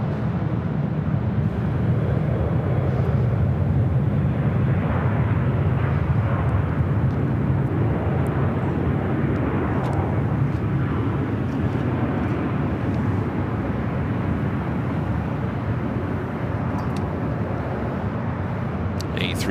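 At LAX, a WestJet Boeing 737-700 arriving from Vancouver gives off a steady, loud jet rumble that fills the whole stretch without fading, with faint voice-like murmurs mixed into the broad engine noise.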